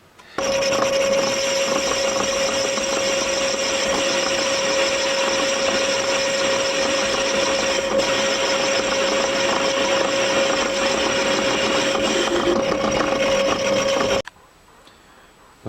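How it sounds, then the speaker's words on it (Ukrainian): A metal lathe faces a handwheel part taken from a sewing machine, to be fitted to an NGF-110Sh3 milling machine. The steady loud motor whine holds with a constant tone for about fourteen seconds, then stops abruptly. "Зараз я буду торцувати тут, торцуватиму тут."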